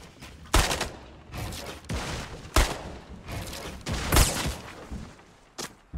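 Rapid bursts of gunfire in an online shooter game, including what may be shotgun blasts during a third-party fight, cracking in several loud shots spaced around a second apart with a noisy, busy background.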